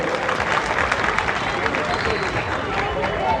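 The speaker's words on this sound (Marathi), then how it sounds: "अतिशय सुंदर जोरदार टाळ्या" An audience at a welcome ceremony in a Buddhist vihara in Nashik claps steadily, a dense mid-distance patter of hands with some crowd murmur.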